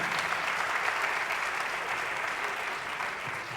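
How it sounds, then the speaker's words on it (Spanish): Audience at a live comedy show in Yucatán applauding: steady, dense clapping from a crowd, moderately distant and even for the whole stretch, with no voices over it. "Venga el aplauso para toda la gente de Yucatán."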